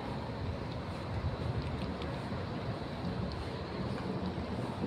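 Steady wind rushes and buffets the microphone in a continuous low roar, with a faint wash like water in the background.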